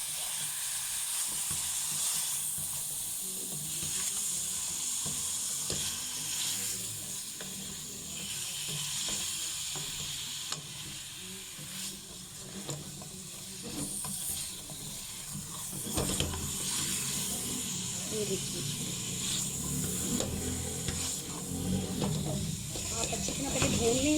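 Chicken sizzles and fries in a karahi for a restaurant-style chicken karahi, a continuous, fairly quiet crackling hiss with shifting intensity throughout.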